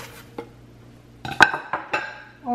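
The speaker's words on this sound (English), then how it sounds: "Just chop the cilantro." A knife clacks against a cutting board while chopping fresh cilantro, a few sharp, close, uneven knocks with ringing clinks between them and no talk.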